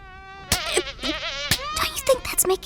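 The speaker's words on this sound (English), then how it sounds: "Oh, the buzzing of a fly." A fly buzzing close by indoors, a thin, steady whining drone broken by several sharp taps and rustles.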